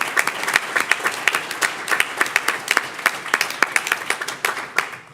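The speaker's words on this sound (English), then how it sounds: "a big round of applause for Steve Gilbert for Channel" Town hall meeting audience of the North Fulton cities gives a round of applause, a steady wash of many hands clapping with sharp individual claps standing out, close and loud for about five seconds without speech.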